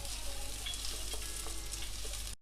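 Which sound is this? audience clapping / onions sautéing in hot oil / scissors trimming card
onions sautéing in hot oil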